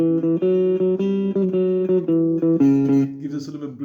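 Guitar plays a guitar boogie riff at a slow tempo, steady low repeating notes with brighter chord accents, fading near the end, loud and alone.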